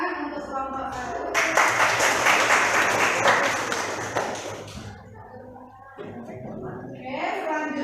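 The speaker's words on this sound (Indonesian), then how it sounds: "beri tepuk tangan untuk kelompok 1" Classroom applause for a student group after a presentation, a burst of clapping from about 1.3 to 4.5 seconds, with talking before and after.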